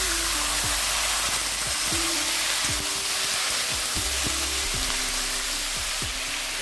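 Potatoes and snake gourd fry in a little oil for a rohu fish curry, giving a steady, loud sizzling hiss with occasional stirring knocks from a utensil, heard close and without talk.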